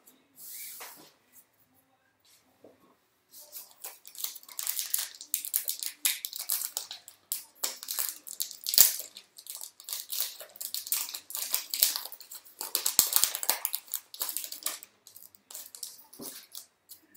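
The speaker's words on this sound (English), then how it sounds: "Having this little mat here makes it a little bit easier to slide these cards and open them a little safer." Crinkly foil wrappers tear and rustle as Pokémon trading card packs are opened on a mat, followed by cards sliding and shuffling in close, irregular bursts of crackle and scrape.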